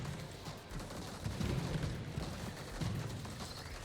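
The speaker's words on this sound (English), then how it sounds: "All these explosions and everything happening is a little loud." Explosions and gunfire from Terratech Legion, a roguelike vehicle-combat game with mines laid on the ground, form a low, dense rumble of overlapping blasts and shots that swells in bursts without letting up.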